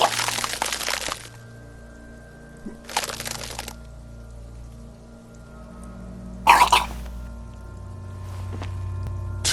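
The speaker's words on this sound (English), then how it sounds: "Your body curls and pushes it out, burst by burst, until a pool of vomit lies under your feet" A vomiting sound effect from the video game Disco Elysium, three wet splashing gushes separated by pauses, the last one sharp and loud, over a low sustained ambient tone.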